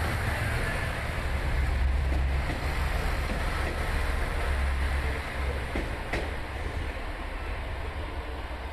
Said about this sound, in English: The Kiha 187 series diesel train, which was Super Oki No. 1,